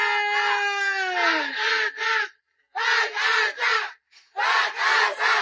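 A crowd at the Pasig Day civic parade shouts and cheers in loud, high-pitched bursts, three swells of yelling split by short near-silent gaps.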